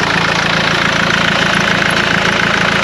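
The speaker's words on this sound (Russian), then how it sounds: "Ну, двигатель работает плюс-минус. Ровно, не колбасит его." A car engine idles steadily up close outdoors in snow, a loud, even mechanical rumble with a faint rhythmic knock and no voices.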